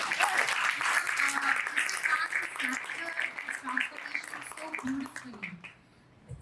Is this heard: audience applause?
yes